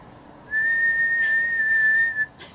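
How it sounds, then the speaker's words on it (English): One person whistles a single sustained, clear note that holds steady for nearly two seconds, close and fairly loud, then stops with a short breathy trailing sound. "Can you whistle?"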